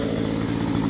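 A chainsaw cuts a leaning mangrove apple tree beside a house, its engine a loud, close, steady buzzing roar with no pauses.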